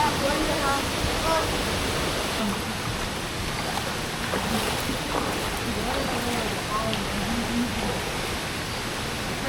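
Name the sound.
flowing water of an underground river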